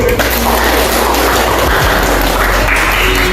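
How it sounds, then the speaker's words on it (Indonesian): Students in a classroom clap together loudly and close-up, a dense continuous burst of applause lasting the whole moment without pause. "Kasih tepuk tangan dulu."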